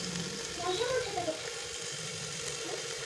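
Chicken with turmeric and salt sizzles and fries in a pan, a soft, steady crackle under someone talking as she stirs.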